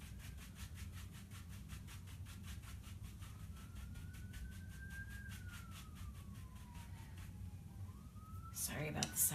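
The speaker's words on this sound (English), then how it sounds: "Sorry about the sirens, guys, if you can hear those." An emergency siren wails outdoors, its tone sweeping slowly up and then down at a distance, faint beneath a steady background hum, with a brief louder clatter near the end.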